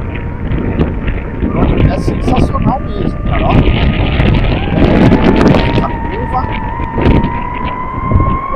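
Strong gale-force wind buffets an FPV drone in flight, roaring and rumbling against the microphone in heavy gusts while the drone's motors whine in rising tones and voices talk throughout.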